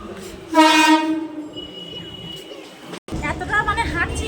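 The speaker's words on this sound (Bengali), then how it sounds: "আমার পিছনে একটা ট্রেন ঢুকছে" A local train pulls in below an overbridge near Howrah, Kolkata, its horn sounding loud and sustained near the start before the rumble of the rail cars continues, with someone talking over it.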